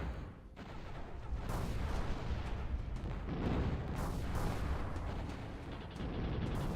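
Phoenix bombers in the strategy game Zero-K dropping bombs on Ronin units, a dense rumbling barrage of loud overlapping explosions and booms that runs without a break.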